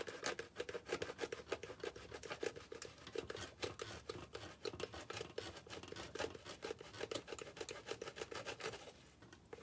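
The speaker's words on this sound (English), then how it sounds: "I'm going to go ahead and cut away this piece here." Scissors snip and rasp steadily through material while a beehive skep is being made, a dense run of quick, close cutting strokes that continues without pause before falling quieter at the end.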